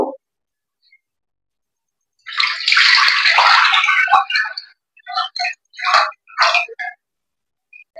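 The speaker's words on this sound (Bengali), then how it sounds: "এখন আমি দুধটা দিয়ে দেবো।" Milk is poured into a pan of water, a close, loud gush of liquid for about two seconds, followed by several short splashing pours.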